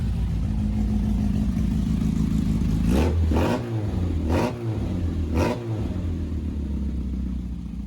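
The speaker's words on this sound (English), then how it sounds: "Go on, give it a rev again." A classic Mini with a 1380cc engine idles with a low, steady rumble, then revs up sharply in four quick blips close by.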